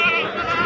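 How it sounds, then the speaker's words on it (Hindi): A goat at a busy goat market gives a short, close, loud bleat with a nasal, wavering tone that lasts under a second. "एक ये वाला बकरा है"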